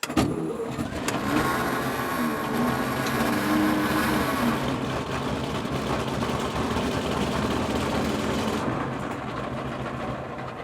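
A tracked snowplow built from a former tank runs loud and close, its engine giving a dense, rattling mechanical roar that holds steady for about ten seconds with no talk.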